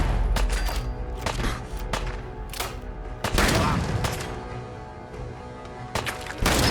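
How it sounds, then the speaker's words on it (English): A shotgun loaded with burning buckshot fires repeatedly in a first-person shooter game, each loud blast followed by a short tail, with about half a dozen shots spread over several seconds. "These guys still standing after 6 shots of burning buckshot."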